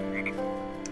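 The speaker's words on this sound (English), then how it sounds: "Do you hear the frogs?" Frogs croaking beside a lily-pad pond in Hexxit, a Minecraft modpack game, with a steady layered chorus of croaks and a couple of brighter chirps heard clearly on their own.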